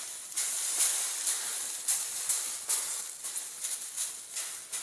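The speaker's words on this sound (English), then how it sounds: "If it like immediately just steams and sizzles away," Water sizzling and steaming on the hot glass of a Quadra-Fire fireplace insert, a steady close hiss broken by repeated sharp spitting bursts.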